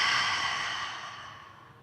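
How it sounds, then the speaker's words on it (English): A deep breath in followed by a long, soft exhale that fades out slowly, heard close and alone during a yoga class. "Take a deep breath in and a long exhale."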